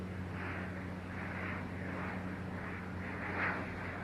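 A Delta airliner taking off from runway 9 right at Atlanta airport, heard as a steady, distant engine roar with a low hum underneath and slowly pulsing broadband rumble, no voices.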